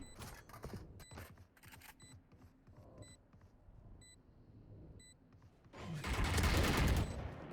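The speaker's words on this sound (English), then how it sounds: "Getting some shots on Rager Turtle" Gunfire in the video game Valorant during a collegiate national semifinal match: rapid clusters of sharp shots with small electronic beeps, then a louder sustained burst of firing and noise near the end.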